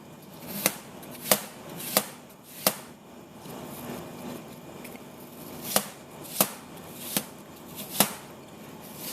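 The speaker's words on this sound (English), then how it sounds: "I'm going to slice them up" A knife cuts through soft apple pieces on a board, making about ten sharp, crisp taps at an uneven pace, close up with quiet gaps between them.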